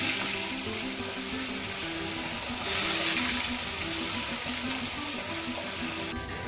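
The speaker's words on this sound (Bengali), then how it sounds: "পেঁয়াজটা খুব ভালো করে ভেজে নিয়েছি।" Onion paste frying in a pan after whole garam masala tempering, a steady close hiss and sizzle running throughout without a break.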